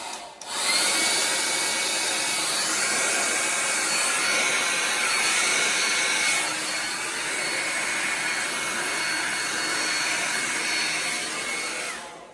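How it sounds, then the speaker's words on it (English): A hair dryer blows acrylic paint across a canvas for a Dutch pour with a gold metallic base, a steady loud broadband whoosh running nearly unbroken for about twelve seconds, with no talk over it. "Get the blow dryer."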